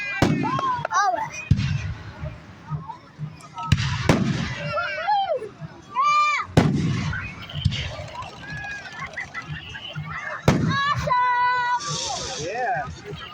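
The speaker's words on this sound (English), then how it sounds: "we're gonna let you watch the fireworks" Fireworks on July 1st burst and crackle in a rapid series of sharp bangs, with whistling rockets rising between them, while nearby children and adults chatter.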